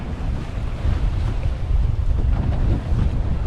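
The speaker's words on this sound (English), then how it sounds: "Wind really picked up." Strong wind roars steadily across the microphone on open water near mangroves, a loud, continuous low rumble with gusty swells and no talk.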